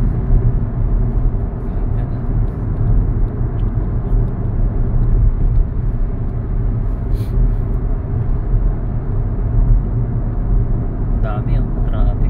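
Road traffic heard from inside a moving vehicle on a highway: continuous low rumble of tires and engine with steady road noise, and people talking over it.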